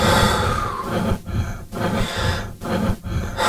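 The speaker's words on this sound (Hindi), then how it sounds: "सर्द सन्नाटे में किसी की भयानक सिसकियां गूंज रही थी।" Eerie horror sobbing, rendered as breathy gasps and shaky, catching breaths in several bursts with brief pauses between them, close and fairly loud.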